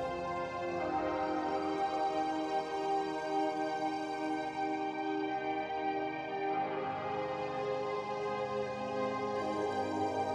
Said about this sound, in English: what you're hearing is the chord transitions being played